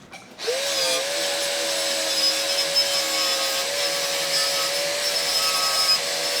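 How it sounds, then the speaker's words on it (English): A wire wheel grinding body filler off the bodywork of a 1966 Triumph GT6, starting abruptly and then holding a loud, steady high whine with a rough scraping rasp for several seconds, no speech. "So I'm gonna take, I guess, wire wheel."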